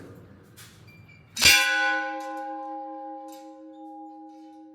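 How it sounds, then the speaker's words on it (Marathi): A large brass temple bell struck once, its loud clang ringing out into a long, clear, slowly fading hum with steady tones, heard alone after faint background noise. "हा एक स्पेशल घंटा आहे पितळी घंटा"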